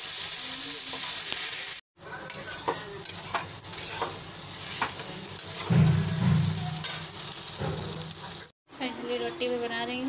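Potatoes and okra fry for an Indian aloo bhindi bhujia in a home kitchen, a steady sizzle with stirring scrapes that swells briefly, running under talk through most of the stretch.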